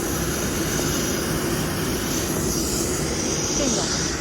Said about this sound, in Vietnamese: có rất là nhiều cái máy bay ở sân bay Tân Nhất này